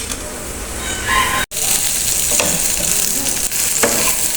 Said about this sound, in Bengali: চলেন বেগুন ভাজি করতেছি